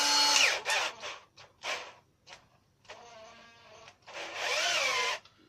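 A charged cordless drill runs in repeated short bursts, its high motor whine rising and falling in pitch across several triggerings, close and fairly quiet with pauses between runs.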